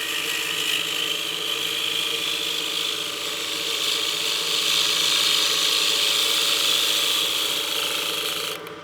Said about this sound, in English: I've cut it really well with that spindle gouge